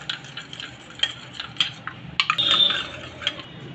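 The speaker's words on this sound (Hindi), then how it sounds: "इसके बाद इन सब को हम अच्छे से मिक्स कर लेंगे।" A spoon clinks and scrapes against a bowl as turmeric and ginger juice are stirred together, giving light irregular taps and one brief scrape, close and quiet.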